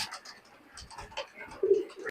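A teddy pigeon, a high-flying breed, gives a brief low coo that rises at the end, quiet and close, over faint scattered rustling.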